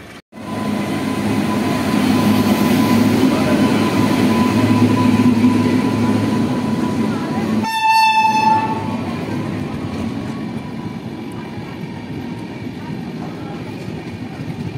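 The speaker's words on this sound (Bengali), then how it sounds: "কলকাতা জম্মু তাওয়াই এক্সপ্রেস দেখতে পাচ্ছেন।" The Kolkata–Jammu Tawi Express rolls past loudly and close on the Bankura line, a sustained roar of wheels and carriages with one long horn blast partway through, the rumble staying strong to the end.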